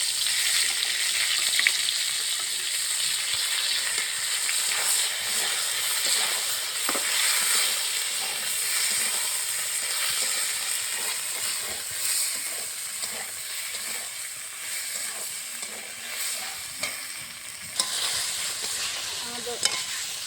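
Ginger and chili paste masala sautés steadily in hot oil, a continuous close sizzle and crackle with faint stirring scrapes, no voices, for the full stretch.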